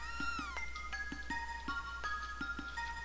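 Cat meows from the Chrono Trigger video game, a series of short, fairly clear repeated mews over soft game music, with no talking.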